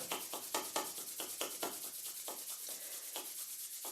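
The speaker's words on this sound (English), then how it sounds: "Bring the hands out in front of you and rub the palms together." Palms rubbed briskly together during a qigong warm-up, a run of soft, dry swishing strokes in a steady back-and-forth rhythm, close and alone with no talking.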